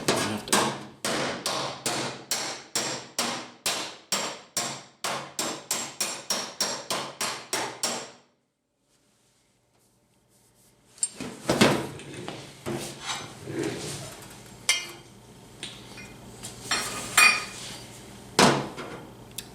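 Hammer and dolly pounding a dented body panel on a 1971 Chevy Blazer, a fast, even series of sharp metallic strikes, then a pause followed by irregular, scattered taps and knocks close by.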